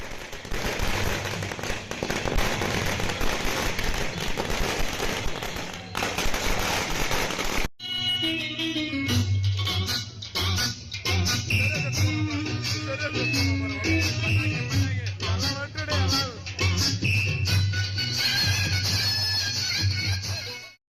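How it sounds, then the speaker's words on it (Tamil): Kamal Haasan's fans set off firecrackers at a celebration: a loud, dense string of crackling bursts runs for about eight seconds, then gives way to loud festive music with further scattered pops. "பட்டாசு வெடித்து நடனமாடி கொண்டாட்டத்தில் ஈடுபட்டனர்"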